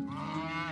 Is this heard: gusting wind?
no